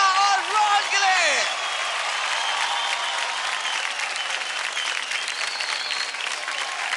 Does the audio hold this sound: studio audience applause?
yes